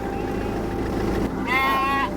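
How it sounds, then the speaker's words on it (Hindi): Sheep and goats from a flock of about a thousand bleat along a mountain road in Ladakh, a steady mass of animal cries under vehicle engine noise, with one clearer, louder bleat standing out near the end. "1000 भेड़े और बकरियां हैं"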